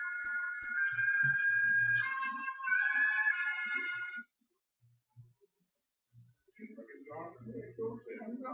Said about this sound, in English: apparently my phone's ringing